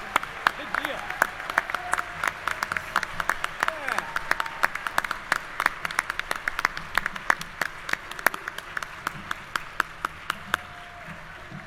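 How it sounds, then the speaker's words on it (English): Scattered clapping from a commencement audience at a university graduation ceremony in Missouri, sharp irregular claps over a hall murmur, with a person speaking briefly. "You can clap, it's okay."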